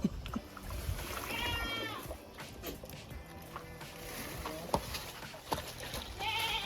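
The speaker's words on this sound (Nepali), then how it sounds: "हाम्रो मामा ल्याएको न्यू दुईटा बाख्रा एडिसनल" Two newly brought black goats bleat repeatedly at a village home during Diwali, their wavering cries rising over a rustling outdoor background at close to moderate distance, with some faint voices nearby.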